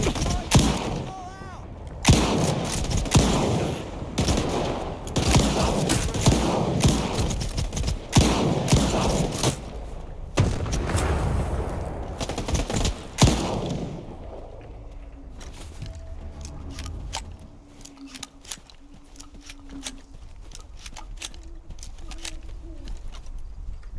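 Gunfire in STALKER 2 as bandits attack, with rapid bursts and single shots cracking loudly for about fifteen seconds, then sparse distant pops over a quieter ambient bed with faint tones.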